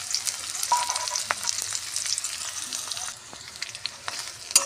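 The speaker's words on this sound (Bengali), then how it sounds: "পেঁয়াজটা লাল করে ভেজে নিই।" Chopped onions with five-spice seeds fry in oil in a home kitchen, a close, continuous crackling sizzle with scattered pops and spoon scrapes, easing slightly toward the end.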